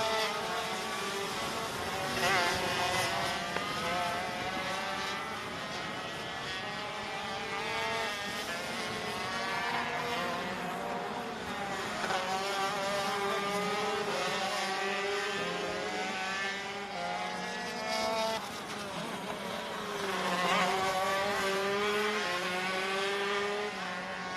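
ROK Shifter go-karts in the 125 limited class race at Sonoma, their engines droning and revving continuously from mid-distance, with several karts rising and fading as they pass.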